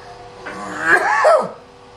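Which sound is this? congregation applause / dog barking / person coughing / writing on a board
person coughing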